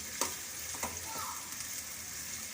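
Onions frying lightly in a pan for green peas chutney, a faint soft sizzle with a few quick stirring scrapes near the start, quiet and close, no speech.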